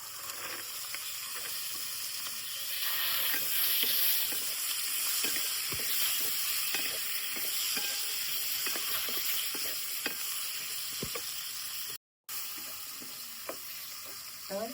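Cowpeas tipped into a pan of frying masala in a Konkan kitchen, a steady loud sizzle and hiss with scattered crackles and stirring scrapes, one brief cut near the end.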